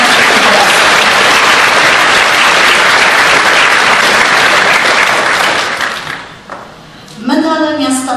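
Loud, dense audience applause at a city medal award ceremony in Bytom honoring nominees, steady for several seconds before tapering off as a speaker's voice resumes.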